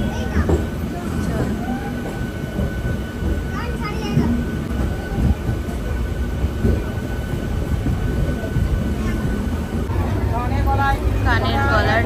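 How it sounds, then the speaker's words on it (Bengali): A train pulls out of the station and picks up speed, a continuous rumble and rattle of the carriages heard from inside, with chatter and brief voices in the background. "চাটা ট্রেন ছেড়ে দিয়েছে, এখন আমরা চললাম"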